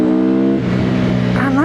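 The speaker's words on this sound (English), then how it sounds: "engine sound" A Benda LFC700 V-twin bobber motorcycle engine idles with a steady low harmonic rumble, then revs up and climbs in pitch near the end, loud and close, under a voice.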